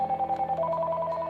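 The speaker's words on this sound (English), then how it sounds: "On the bottom of the base unit is the control for the ringtone." A Clarity XLC7BT cordless phone plays a ringtone: a close, fairly quiet electronic melody of short repeating warbling tones with a pitch change partway through.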